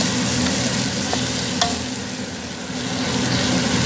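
Vegetables for a bolognese sauce fry in a pan with a loud, steady sizzle, joined by a few faint scrapes of stirring, close up and with no voices.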